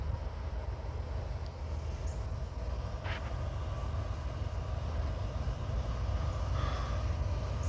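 A train rumbles past near the track at night as a steady, low, fairly faint roar with occasional faint squeaks above it, and no other sounds stand out.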